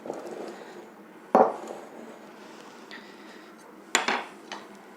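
Contents of a casserole pot, squash, rice and lardons, are tipped into a gratin dish, with two loud clanks of cookware about two and a half seconds apart over faint scraping and quiet room noise.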